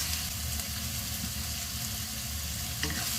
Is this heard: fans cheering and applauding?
no